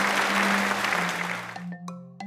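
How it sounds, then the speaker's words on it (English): Canned applause from a crowd rings out as a dense, loud wash of clapping that fades away, followed by a few bright chime-like tones and a steady low hum. "Give yourselves a round of applause."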